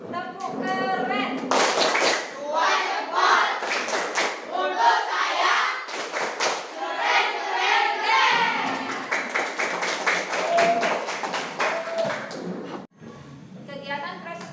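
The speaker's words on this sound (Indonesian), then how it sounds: "Tepuk keren." Group of students clapping a rhythmic classroom ice-breaker cheer, many hands striking together in quick patterned bursts, loud and close, mixed with shouted chanting voices throughout.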